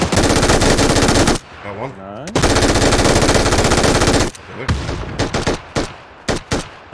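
Machine gun fire in PUBG, two long loud sustained bursts of rapid shots separated by a brief pause, followed by several short choppy bursts, with players briefly talking between them.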